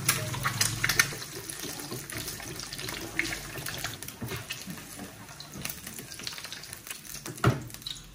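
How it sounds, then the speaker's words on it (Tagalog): Steady crackling sizzle of an egg frying in a pan, continuous and fairly close, with a few louder pops and clatters along the way, at a beach outing. "Prito pa ako ng isa pa."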